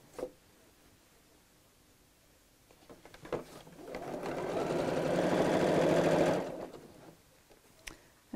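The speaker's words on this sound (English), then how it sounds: "we'll sew one lining piece right sides together across the top to one of the bag pieces" A domestic sewing machine stitches a bag lining piece to a bag panel, starting after a few clicks and faint handling noises and running steadily for about three seconds before stopping.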